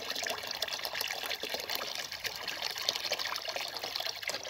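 Clean water trickles and splashes steadily into a container for chickens, a continuous close pour with no voices.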